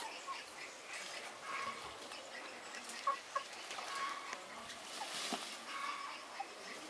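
A few chickens tucked into a corner of a farmyard give faint, scattered clucks over quiet background noise.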